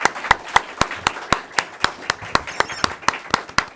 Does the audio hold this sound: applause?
yes